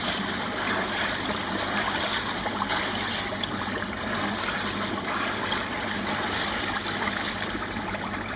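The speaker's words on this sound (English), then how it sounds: "this is me essentially flushing the filter" Steady, loud rush of water flowing and splashing as a homemade koi pond filter is flushed, a constant close-up stream with no letup and no talk.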